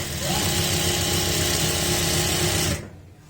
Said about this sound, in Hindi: लास्टिक को खींच के यहाँ पे आपने सिलाई लगानी है बीचों बीच